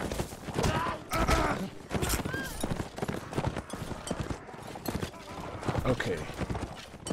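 Enemy horses gallop in the Mount & Blade video game, a rapid clip-clop of hooves mixed with clattering battle noise and someone talking over it.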